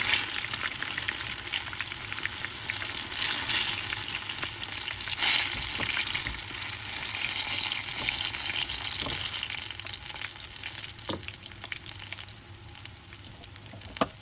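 Eggplant and pork frying in a pan for dinner, a loud, constant crackling sizzle that fills the whole stretch, with occasional sharper pops and a slight easing toward the end.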